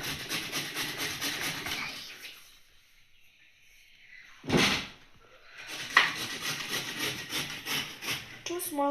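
Two small carrots rubbed against a kitchen grater for an egg curry, a steady rasping scrape in rhythmic strokes that runs for a couple of seconds, pauses in near silence, then resumes with a brief bump in between.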